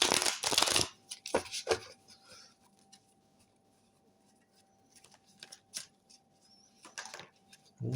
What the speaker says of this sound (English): let's give these a good quick shuffle